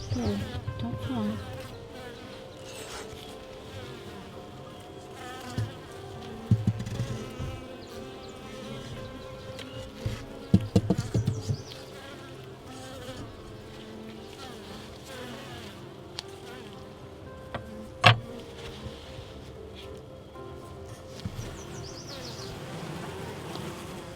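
Honey bees buzz around their hive, a continuous low insect hum close to the microphone, broken by a few sharp knocks and handling bumps.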